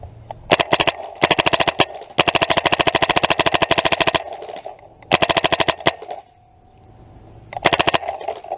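An Ego Bolt paintball marker fires on semi-auto at about 15 balls a second, in loud, rapid bursts of sharp cracks separated by short pauses and a faint mechanical hum, with no talking.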